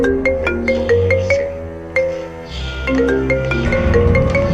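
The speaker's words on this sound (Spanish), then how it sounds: "el sonido de su teléfono cortó la calma de golpe" A phone notification chimes as a bright electronic melody of short, repeated tonal beeps. It plays loud and close, with no voices over it.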